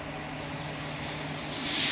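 A Freewing 90mm F16 RC jet sits on the runway with its electric ducted fan whining steadily. The whine is broad and high and swells slightly near the end, with no voices.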